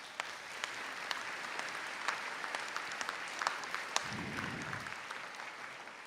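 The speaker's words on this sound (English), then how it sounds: "Round of applause" At a college conferring ceremony, a fairly quiet audience applauds with scattered, distinct individual claps over a soft hum of room noise, with a brief low rumble partway through.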